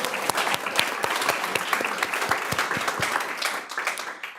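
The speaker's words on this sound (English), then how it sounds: "we got to clap for that" An audience at a school district board of trustees meeting breaks into applause for a league championship, a close, lively patter of many hands with distinct individual claps popping through, sustained before tapering at the end.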